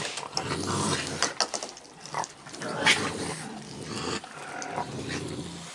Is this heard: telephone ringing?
no